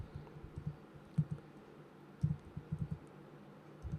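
Typing Java code on a computer keyboard, with soft scattered key clicks in small irregular bursts, close but quiet against a faint background hiss.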